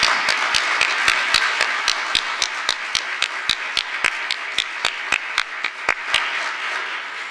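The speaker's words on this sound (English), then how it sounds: "Can we have another round of applause for Dorothy?" An audience at a naturalization ceremony hosted by the Attorney General applauds steadily, with one nearby clapper's even, regular beats standing out over the softer crowd clapping.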